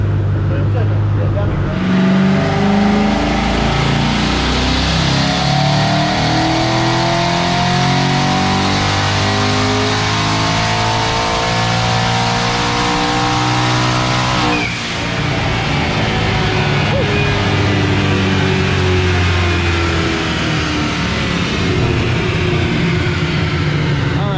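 A Ford S550 Mustang built by HPR on a dyno gives a long, loud wide-open pull, with engine pitch climbing steadily to a peak, a brief shift-like dip midway, then revving on at full volume.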